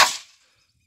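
A single sharp shot from a friend's rifle (carabina) firing a lead slug during a 30-metre grouping test, loud and close, with a quick decay and no talking.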